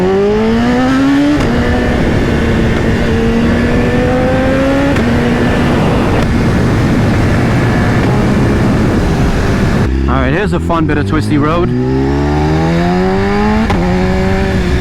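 BMW S1000RR sport motorcycle fitted with a loud Akrapovic exhaust, revving hard through rising gear pulls and shifts on a twisty road, the engine note climbing repeatedly, with a rider talking over it near the start.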